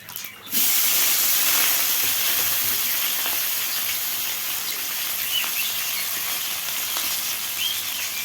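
Chopped onion and slit green chilies drop into hot oil already tempered with dry red chilies, cumin and whole garam masala, setting off a loud, steady, close sizzle that hisses on without pause and no talking.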